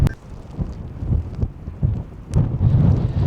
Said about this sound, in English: It's windy as hell right now